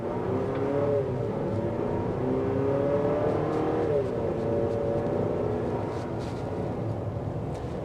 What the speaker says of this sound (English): You can definitely hear the engine roar